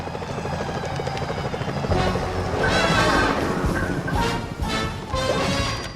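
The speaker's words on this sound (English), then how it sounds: "Those security choppers are bad news." Security helicopters in the Sly Cooper: Thieves in Time video game thrum loudly and continuously, with crashing impacts and whooshes layered over the rotor noise throughout.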